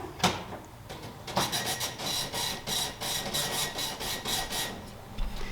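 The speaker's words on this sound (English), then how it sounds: "I'm printing your receipt for this deposit" A receipt printer at a bank prints a deposit receipt, giving off a steady run of rapid rasping pulses for several seconds, fairly close, with no voices.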